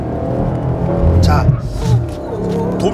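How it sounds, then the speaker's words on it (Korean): A Chevrolet Camaro SS's 6.2-liter engine revs hard on a circuit while tires squeal in short bursts as the car slides, close and loud, with a person talking over the noise. "가속을 깊게 하면 차가 이제 슬립을 하는 거죠."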